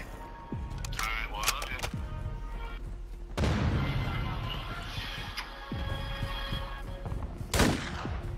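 Pistol shots and other gunfire crack out in a video game, scattered sharp bursts and booms against a busy battle backdrop, with voices talking in between.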